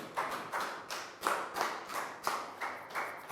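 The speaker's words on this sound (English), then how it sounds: "Big round of applause for Dan." Children in a primary school classroom clap together for a classmate, a brisk, close round of hand claps with regular bursts of taps lasting a few seconds, no talking over it.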